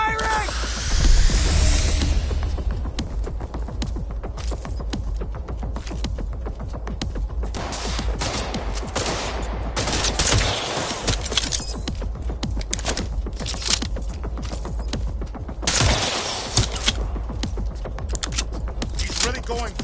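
Gunfire in the video game Cyberpunk 2077, loud dense bursts of rapid shots and crashing impacts filling the scene, with a voice talking intermittently over the constant combat noise.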